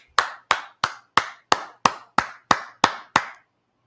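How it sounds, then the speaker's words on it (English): Ten sharp claps in a steady, even rhythm, loud and close, each ringing off briefly before the next, then silence. "Clap it up."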